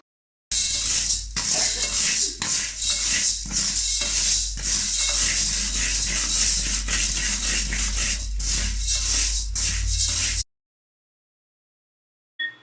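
Urad dal (black gram) is dry-roasted in a pan, giving a steady, loud rustling and scraping with rhythmic stirring strokes for about ten seconds, then silence.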